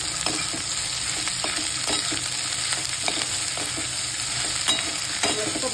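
Okra stir-frying in a hot pan over high heat, a loud continuous sizzle with regular scraping strokes of a spatula.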